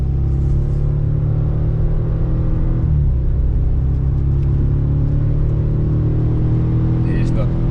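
An Audi on a race track during a track day, its engine droning loud and steady inside the cabin with a low rumble that shifts in pitch as the car accelerates, while a voice talks over the noise.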